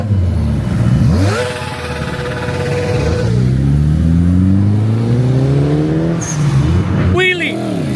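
At a wild Miami street car meet, a motorcycle revs repeatedly, its engine pitch sweeping up and down through several gear-like climbs, loud and close amid crowd noise and talking.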